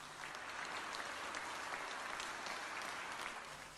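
Sustained applause from COVID patients and their caregivers clapping at a COVID center in Surat, Gujarat, a dense, steady wash of many hands throughout with no talking.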